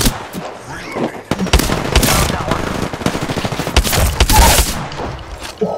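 Rapid automatic gunfire in the Apex Legends shooter, dense overlapping bursts of shots close and loud throughout, with players talking over the fighting.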